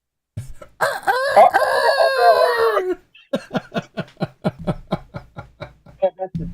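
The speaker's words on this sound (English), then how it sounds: "that's the turkey" A loud, warbling turkey call rings out, then breaks into a quick run of short rhythmic bursts close to the microphone.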